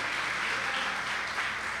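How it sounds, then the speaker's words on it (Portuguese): Church congregation clapping during a worship service, a loud continuous wash of applause with no break, ending in a brief low thump. "Aplauda Jesus na vida deles"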